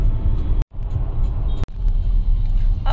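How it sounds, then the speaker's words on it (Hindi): Dense early Monday morning road traffic in Delhi, a steady loud rumble of cars and engines passing close by, with a couple of brief cutouts. "अभी 7 भी नहीं बजे हैं और ट्रैफिक देख लीजिए"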